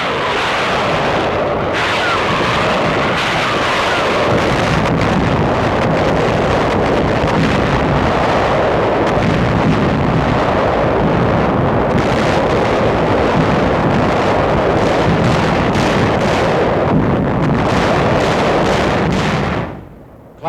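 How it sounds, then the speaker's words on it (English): Explosions and heavy gunfire from intense aerial and naval bombardment of shore installations and defenses before a 1945 beach invasion, a loud dense continuous roar of blasts and rumble with no talk, fading out at the very end. "taking part in the intense aerial and naval bombardment which preceded the invasion"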